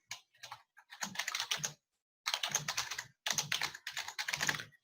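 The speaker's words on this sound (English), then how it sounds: "And I have to enter a title. Wow, I can't type tonight." Quick bursts of typing on a computer keyboard, close and crisp, in three clusters of rapid keystrokes separated by short pauses, with no talking.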